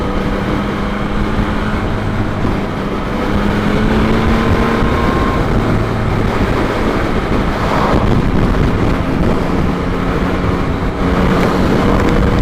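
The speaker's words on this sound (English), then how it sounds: "It's very windy today. It's really quite gusty." Strong wind buffets the microphone in a continuous roaring rush, with gusts rising and falling throughout.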